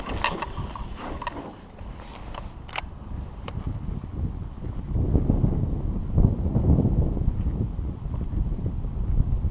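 Gusty wind buffets the open water on a late-fall bass fishing outing, a rough rumbling roar that swells stronger in the second half, with a few sharp clicks early on.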